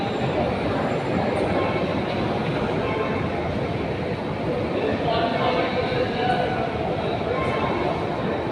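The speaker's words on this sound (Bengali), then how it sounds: "ইন্ডিয়ার মধ্যে এই প্রথম এত নিচে মেট্রো রেল, গঙ্গার নিচে দিয়ে চলে।" An underground metro train running through a deep tunnel beneath the Ganga gives a continuous loud rumble with rattling wheels and a faint squeal, heard from inside the carriage.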